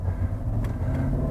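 Used Maserati Quattroporte sedan driving on the road, a steady low engine and road rumble from inside the car, moderately loud and continuous for a brief moment.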